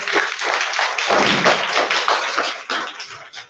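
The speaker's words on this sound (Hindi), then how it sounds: "इन बच्चों के लिए जोरदार तालियां हो जाएं" Children and adults at a government primary school in Ramgarh, Clement Town clap loudly together for a group of young singers, a dense, steady burst of applause lasting several seconds with no talking.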